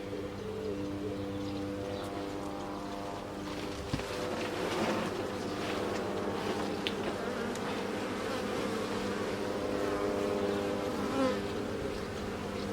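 Honeybees buzzing densely around an open hive as a frame is shaken, a steady layered drone of many wings with a soft thump partway through, no talk.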